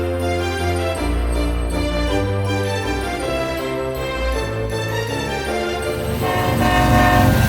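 A BNSF freight train rolls past between Tulsa and Beggs, Oklahoma, its horn sounding loud and sustained over the continuous rumble and clatter of the cars, with no talking.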